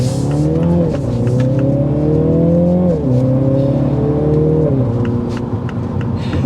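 A 2023 MINI Clubman John Cooper Works ALL4 engine accelerates hard through several gears, loud and close, revs climbing then dropping at each of three upshifts.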